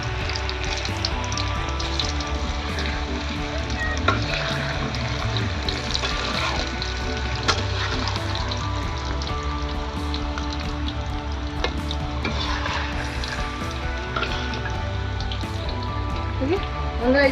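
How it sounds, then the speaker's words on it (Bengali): Potatoes deep-frying in a generous amount of hot oil for mutton biryani, a steady dense crackling sizzle like rain on a surface, loud and continuous throughout with no talk. "এই তেলটা আমার গরম হয়ে গেছে, এতে আমি আলু দিয়ে দেবো ফ্রাই করার জন্য"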